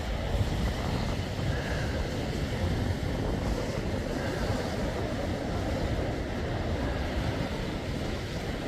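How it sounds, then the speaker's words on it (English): Surf breaking on a beach on a breezy morning, a steady broadband wash of waves with wind buffeting the microphone, continuous and fairly loud throughout with no talk. "Well, surf is up this morning."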